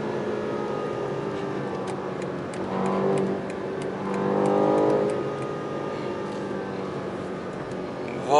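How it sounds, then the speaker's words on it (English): A 2020 BMW M8 Competition with 625 hp pulls away at full throttle, its engine swelling twice in fairly quiet rising surges over a low background with light ticking. "Now an acceleration, 0 to 62, full throttle, 50, 100,"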